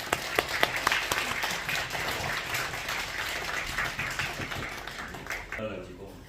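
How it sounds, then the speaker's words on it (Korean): A church seminar audience claps in sustained applause welcoming a pastor, dense and lively, tapering off toward the end. "박수로 크게 환영합니다."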